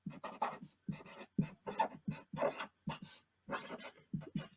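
Marker strokes scratch across a paper file folder in short bursts of squeaky writing, close and fairly quiet, with brief pauses between words.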